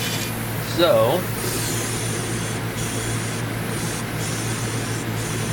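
A paint sprayer hisses steadily as it coats a tumbler in red paint, a constant airy spray close by that runs the whole time, with a person speaking briefly near the start.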